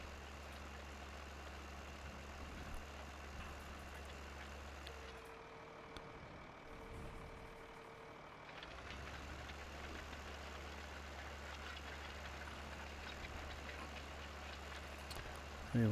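A tractor engine working in a field gives a steady low drone and faint hiss, cutting out for a few seconds midway before resuming at the same level, with no talking.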